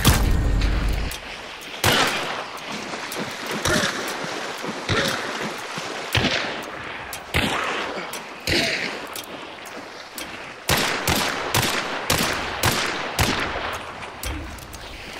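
Gunfire rattles through a video game battle in bursts and volleys with short pauses, loud and close throughout, over a continuous wash of background battle noise.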